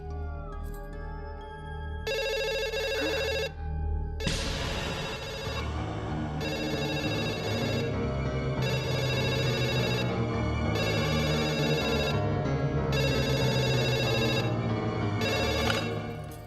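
A telephone rings in repeated bright electronic bursts, about six evenly spaced rings over a steady low background hum, clear and fairly close with no one speaking.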